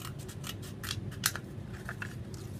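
Several crisp scissor snips in a quiet room, short metallic clicks spaced irregularly with one sharper cut near the middle.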